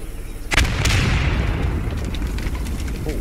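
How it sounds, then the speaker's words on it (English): A grenade goes off in the Post Scriptum infantry combat game, one loud boom with a long rumbling decay and faint distant noise around it. "Grenade out."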